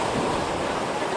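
Ocean waves washing onto a sandy beach, a dense, steady roar of surf close by, with no clear talking.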